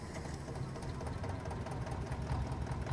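Tractor engine in Farming Simulator 22 running steadily, a continuous low rumbling drone with a knocking texture at constant loudness throughout.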